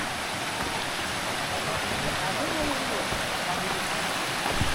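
A river stream crossing a mountain trail on Sanggabuana makes a continuous broadband rush of flowing water, steady and fairly close, with no clear speech over it.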